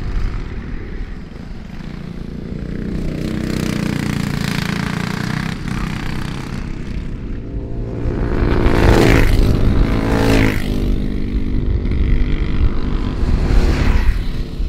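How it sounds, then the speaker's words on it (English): A two-seater rental go-kart laps a track, its small engine droning and buzzing continuously, rising and falling in pitch as it accelerates and slows, then growing louder and rougher partway through. "I'm going to hop on a two-seater rental cart, and we're going to be making some laps"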